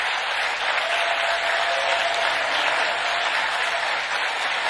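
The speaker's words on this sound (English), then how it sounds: "They've already clapped for him." Audience applause fills a State Department hall after a farewell foreign policy address by Joe Biden, a steady, dense clapping from a large crowd that holds evenly throughout without breaks.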